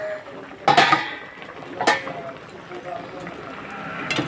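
A spoon stirs mango kasundi in a pan, giving a few sharp metallic clinks and scrapes spaced about a second apart over a low, steady background hiss.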